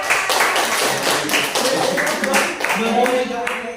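Classroom audience clapping hands during a microteaching lesson, a dense burst of quick overlapping claps that continues steadily for several seconds while a voice speaks over it.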